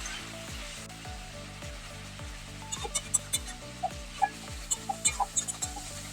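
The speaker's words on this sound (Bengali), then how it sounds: "মশলাটা ভালো করে কষে নেব" Spice paste with turmeric and chilli powder frying in a pan for a lote fish curry, a low, faint sizzle beneath a quiet rhythmic ticking, with a run of sharp spoon clicks and scrapes arriving in the second half.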